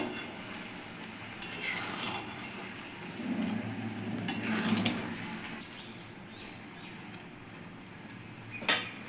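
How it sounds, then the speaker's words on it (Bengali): Basanti pulao with added ghee stirred in a pot, giving soft, intermittent scraping and stirring sounds at close range over a faint background hiss, with no speech. "একটু ঘি দিয়ে নিচ্ছি ভালো করে মিশিয়ে নেবো"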